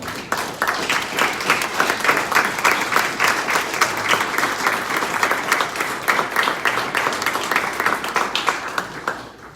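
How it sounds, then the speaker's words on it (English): An assembly meeting audience gives a sustained round of applause, many hands clapping steadily in a room for nearly ten seconds before tapering off at the end. "let's, Assembly and everybody in the room, let's stand and give Mr. Bruce a round of applause."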